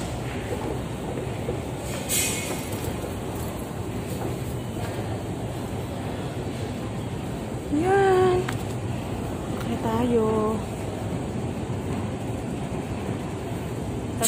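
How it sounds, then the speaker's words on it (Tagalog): A train passes with a steady, broad rumble throughout, punctuated by two brief tonal horn-like calls near the end, heard from close by with faint voices in the background. "Ayan, train."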